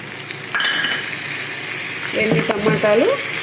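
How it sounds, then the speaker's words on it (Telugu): Spices and tomatoes sizzle in hot oil for a gongura chicken curry, a steady frying crackle close by with a few clinks of a utensil stirring in the pan and a brief voice toward the end. "వేసి ఇలా కొద్దిగా ఆయిల్లో ఫ్రై చేశాను"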